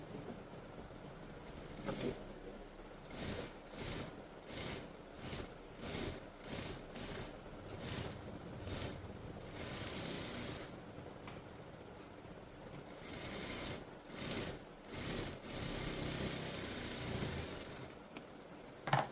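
A sewing machine stitches a blouse in short, faint bursts of rapid mechanical whirring, separated by brief pauses, with no voices.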